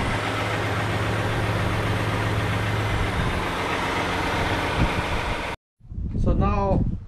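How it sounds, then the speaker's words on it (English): A 2012 Toyota Highlander engine idles with its cooling fans running, a steady, close mechanical drone with a constant hum, cut off abruptly; a voice speaks briefly at the end. "Now we're going to be checking the fans to make sure both of them working."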